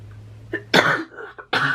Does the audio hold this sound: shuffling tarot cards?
no